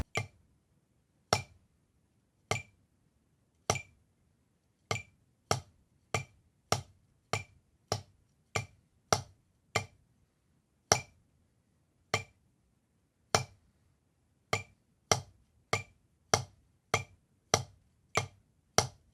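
Crisp drumstick strokes tick out a double-stroke exercise in a steady stream of sharp, dry hits, some grouped in close pairs, with short pauses between runs.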